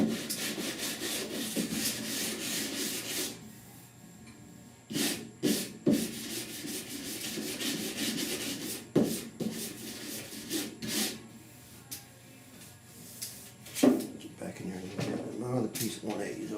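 Hand block sanding of primer/surfacer on the rusty roof of a 1969 Chevrolet C10 pickup with 180-grit paper, steady rasping strokes broken by short pauses and sharper bursts, close by, with someone talking over parts of it.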